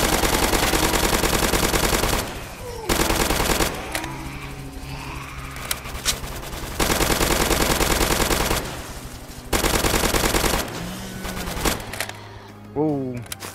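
Gunfire in the Roblox zombie game Zombie Uprising: long bursts of rapid automatic fire, loud and close, broken by short pauses and a few gaps where a voice and other game sounds come through.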